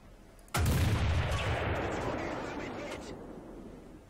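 A tank cannon shot in War Thunder, fired from a Conqueror heavy tank: one sudden heavy boom with a deep low thump, followed by a long rumbling decay that fades over several seconds.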